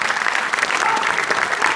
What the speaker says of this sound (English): let's give our sponsors everybody a round of applause.